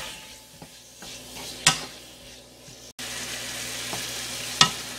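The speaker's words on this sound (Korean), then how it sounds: "오만동이랑 미더덕을 얘를 볶습니다" Mideodeok (sea squirt) and omandungi stir-frying in oil in a pan, a steady soft sizzle broken by occasional sharp clicks of a utensil against the pan.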